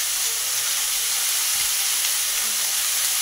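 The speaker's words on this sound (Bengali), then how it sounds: "চিচিঙ্গাটা পেঁয়াজের সঙ্গে কিছুক্ষণ ভালো করে ভেজে নেব" Snake gourd fries in oil with onion and chilli paste, giving a steady, loud, close hiss that runs unbroken throughout with no talk.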